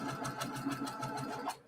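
A sewing machine stitches quilt four-patches, giving a fast, rhythmic mechanical whirr with regular needle pulses that runs steadily and then stops abruptly.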